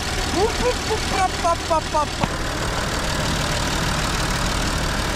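An old tractor engine idles with a steady low chugging drone, while a voice talks briefly over it near the start.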